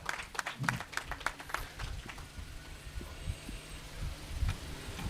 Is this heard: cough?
no